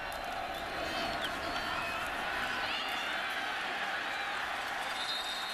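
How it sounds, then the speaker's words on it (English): A broad, steady roar from the Texas Tech rooting section at the 2014 Arkansas at Texas Tech college football game, a packed stadium crowd cheering continuously at moderate distance with no clear peaks, sustained throughout. "the cheer goes up from the Texas Tech rooting section as Levy makes a tackle"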